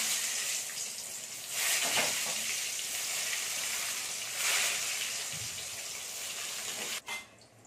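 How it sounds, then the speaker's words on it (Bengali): Eggplant pieces fry in hot oil with a continuous bright hiss that swells twice as the pieces shift, then ends with a short clink of a utensil near the end. "এবার এই তেলেতে আমি বেগুনগুলো ভেজে নিচ্ছি।"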